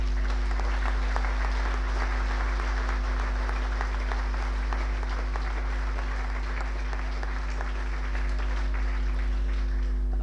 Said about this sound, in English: I'd like you to give them a good round of applause.